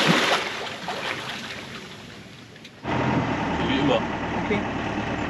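A sailboat motoring out of a marina in Mexico, its engine a steady low drone that jumps louder partway through and keeps running alongside wind and water noise, with a voice speaking briefly.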